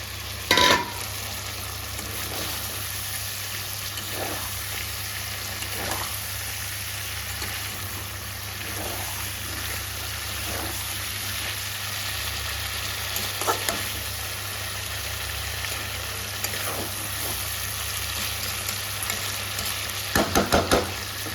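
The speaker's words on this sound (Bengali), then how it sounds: "এবার ভেজে রাখা কই মাছগুলো এর মধ্যে দিয়ে দেবো।" Fried koi fish stirred into a spiced curry base in a pan, giving a steady close frying sizzle across the whole stretch with occasional scrapes of stirring.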